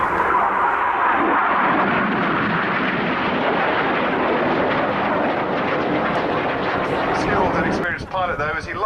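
Red Arrows RAF jets roaring loudly and steadily overhead during the Vortex manoeuvre at RIAT 2011, a continuous dense jet engine rumble that drops away near the end.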